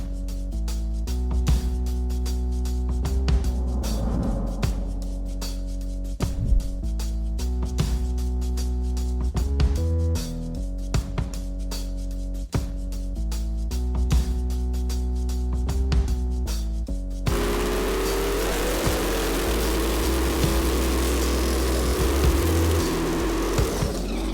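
A small block turbo street race car engine idles and revs with a steady low rumble and brief throttle blips, then a sharper rising engine tone near the end, close and loud without talk.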